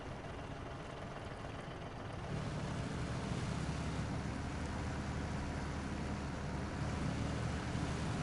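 Rushing river water sweeping a truck away in the off-road driving game SnowRunner, a steady broadband wash that swells louder after a couple of seconds and keeps surging, with no talk.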